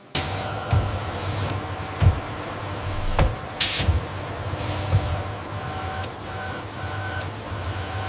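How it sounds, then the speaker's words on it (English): Robotic tool changer loading a diamond-tipped end mill into a CNC spindle in an aircraft factory: close mechanical whirring and hissing with several sharp clunks and pneumatic bursts over a constant machine hum. "A robotic tool changer loads a diamond-tipped end mill into the spindle."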